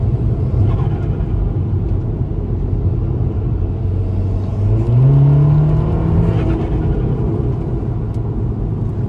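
VW MK7 Golf R on a stage 1 91 tune with an Integrated Engineering intake accelerating on a wet road, a loud close low engine rumble that swells and rises in pitch midway, then settles back.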